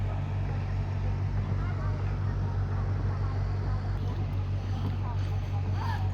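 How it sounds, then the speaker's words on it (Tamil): Motorboat on the River Thames in London, a constant low engine rumble heard from the riverside with broad wash of water and outdoor noise, steady throughout. "அழகிய தேம்ஸ் நதிக்கரை ஓரம் மோட்டர் போட் ட்ரைனிங்"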